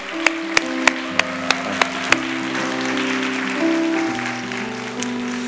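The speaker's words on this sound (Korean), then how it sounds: "박수 한번 해드리겠습니다" A church congregation applauds a newlywed couple, steady clapping from many hands carrying on under sustained instrumental tones, with a few sharper claps standing out near the start.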